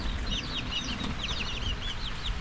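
Chickens and ducks at a house flooded by heavy rain cluck and peep continuously. Many small calls overlap above a steady rushing background.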